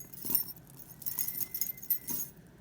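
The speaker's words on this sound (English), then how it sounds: "there's bells on the bottom of them" Small metal bells dangle from glass donut-shaped drops on a vintage necklace, giving off a few light, close jingling rattles in brief bursts against a quiet background.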